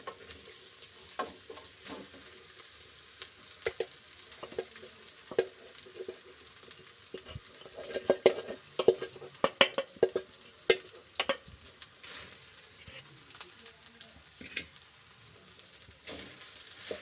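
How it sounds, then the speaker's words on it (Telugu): Cooked rice being stirred into tamarind-leaf pulihora in a pan, a soft ongoing sizzle broken by frequent scraping and tapping strokes from the spoon, clustered thickest in the middle, with no voices. "ఇప్పుడు రైస్ వేసి కలుపుకుందాం."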